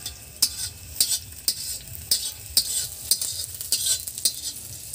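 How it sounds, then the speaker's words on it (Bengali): Snake gourd slices frying in a pan, with steady crackling sizzle under a series of sharp, regular scrapes and stirs from a utensil about once per second, close and fairly loud; no talking. "বন্ধুরা চিচিংয়ে ভাজা হয়ে গেছে, তুলে নিচ্ছি"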